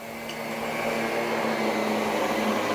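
A Miele Guard L1 canister vacuum cleaner runs its electric power head over carpet on the low curtain suction setting, giving a steady, close whining hum with a brushroll drone underneath.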